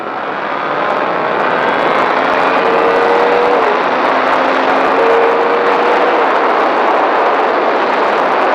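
A motorcycle accelerates on the Magny-Cours race track, a loud, continuous engine roar with rising pitch heard from on board, steady wind noise throughout.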